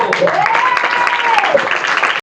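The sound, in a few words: audience applauding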